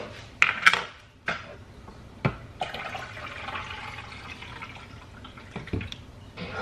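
Water added to a pot of chili on a home stove, with clinks of cookware, a few sharp knocks and a running, trickling pour that continues fairly quietly.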